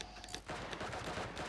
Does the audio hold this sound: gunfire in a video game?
yes